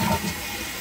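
Water running through the refill tube of a toilet tank and draining away, a steady low rushing trickle heard close up, alone and fairly quiet.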